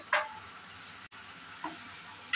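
Spices fry in a pan with a faint, steady sizzle broken by a few short clinks or scrapes and one brief dropout, with no voices.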